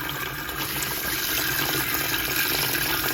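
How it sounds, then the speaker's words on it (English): A kettle being filled with water from a tap, a steady close rushing splash of running water lasting a few seconds, with no talk. "let's fill this up with water."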